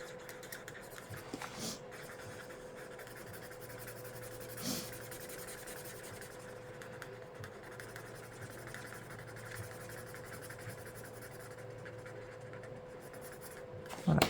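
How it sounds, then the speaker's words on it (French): A coloured pencil scratches steadily across paper while colouring in a jellyfish drawing, faint and close, with soft continuous strokes and a louder knock at the end. "je prends ma couleur la plus claire et je viens colorier le tout"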